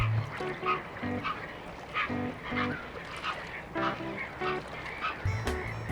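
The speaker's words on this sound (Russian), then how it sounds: "Пеликаны – птицы общительные," Dalmatian pelicans in a Caspian colony in Dagestan give hoarse, honking calls in repeated bursts, several birds overlapping at moderate distance, with brief gaps between the groups of calls.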